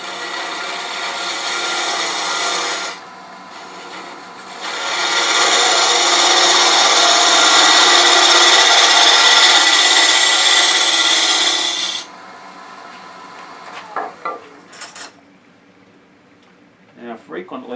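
Tool cuts on a walnut box spinning on a woodturning lathe make a loud, steady rasping hiss in two long passes, the second about seven seconds, with the lathe humming between them and a few clacks near the end.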